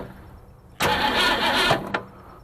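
Starter cranking the engine of a 1966 Ford Mustang that has sat off the road for over 30 years, a single grinding burst of about a second, close and fairly loud.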